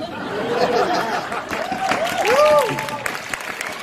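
Lecture audience applauding warmly after a talk on stem cells, a broad burst of clapping with some chatter and a voice speaking over it.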